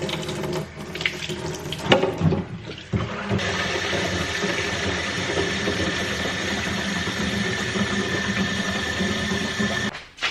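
Water pouring from a container onto a potted horseradish plant: a splashing, gurgling start with uneven bursts, then a steady hissing stream that runs continuously before stopping abruptly at the end.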